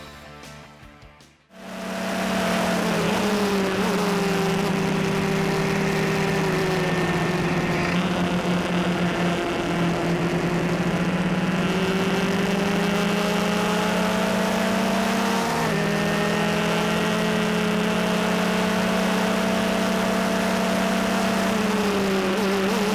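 A Formula Lites FL15 entry-level race car speeding through high-speed corners, its engine a loud, sustained whine that rises and drops with gear changes and throttle, close and continuous after a brief quiet start.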